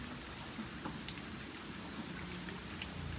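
Rain falling steadily in monsoon weather at a rural home, a continuous dense patter of drops on surfaces, faint and even throughout with no talk.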